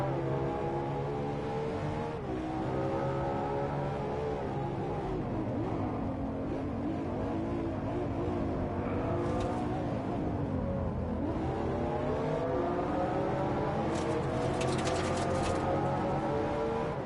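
A car engine revs and accelerates in the racing game Driveclub, its tone climbing and falling through gear changes in a steady, close, continuous drone, with no talk over it.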